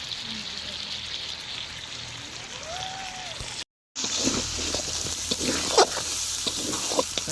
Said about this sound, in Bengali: এটাকে একবারে ভাজা মাংসের মতো করে নিলাম আর কি